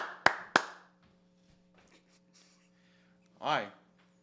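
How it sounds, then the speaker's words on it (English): Two sharp hand claps in quick succession at the start, loud and close, followed by near silence over a steady low hum, then a brief voiced sound near the end. "Someone clap it up and let's get Elias out of here."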